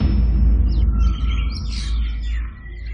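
Birds chirp and tweet at dawn in quick bright calls over a heavy, constant low rumble.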